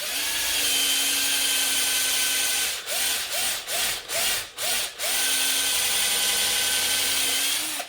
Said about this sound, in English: Let the drill bit slowly into it.